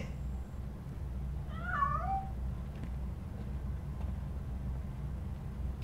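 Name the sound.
cat meowing in video game Robocop Rogue City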